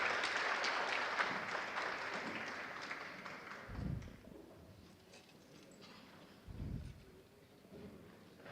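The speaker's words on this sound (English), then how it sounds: "An applause for our panelists." Applause for forum panelists at the close of a session, a broad wash of clapping that is fairly quiet and fades over several seconds, with a couple of soft thumps afterward.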